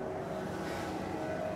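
Steady engine drone of a car being driven in the zombie survival game State of Decay 2, a constant low hum with wind-like noise and no talk.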